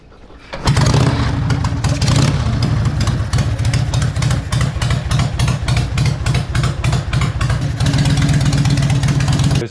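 A Harley Ironhead motorcycle engine on a divorced-frame build cranks and catches, then settles into a loud, close, steady idle with a lumpy rhythmic beat that continues without talk.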